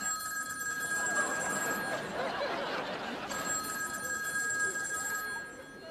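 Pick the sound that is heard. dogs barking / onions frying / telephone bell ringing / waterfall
telephone bell ringing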